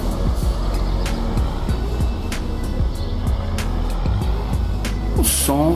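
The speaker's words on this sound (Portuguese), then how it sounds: "O som ficou um diretão padrão." Truck engine with straight-pipe exhaust in a driving simulation game, a continuous loud low rumble with periodic clicks, ending in a brief rising sweep.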